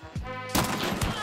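A few heavy gunshots in a shooting game, a muffled thump then a louder blast with a rolling tail, over a steady background hum.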